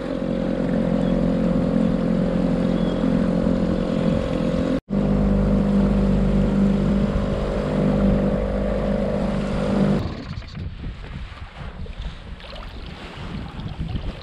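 Small outboard motor on a fishing boat at sea runs with a steady, close droning hum, cutting out for an instant near five seconds. It then gives way to rougher wind and water noise.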